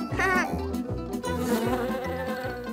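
Steady buzzing hum with a pulsing, repeating rhythm, loud and close, with no talking over it.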